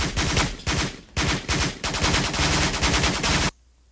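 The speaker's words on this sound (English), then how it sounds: "Let's shoot them so they stay there." Gunfire from a military shooter game, Project Reality, crackles in loud bursts of rapid automatic fire separated by short gaps, then cuts off suddenly near the end.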